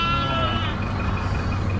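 Sheep bleat on a mountain road between Tehri and Rishikesh in Uttarakhand, a steady close bleating over a continuous low rumble that sounds like a vehicle engine idling nearby.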